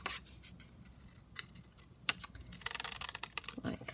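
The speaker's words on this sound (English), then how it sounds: "Just going to kind of cut them out" Scissors snip through ivory cardstock to cut out printed cigarette cards, first in a few isolated close clicks and then in a rapid run of crisp cuts. There is no talking.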